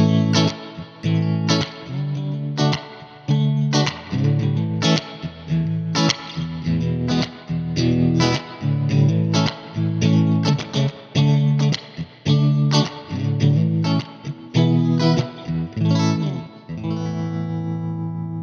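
Electric guitar played through a 1968 Fender Princeton Reverb tube amp with the reverb turned all the way up, a strummed and picked passage of chords and notes ringing out loud and washy with a long reverb tail and no talking.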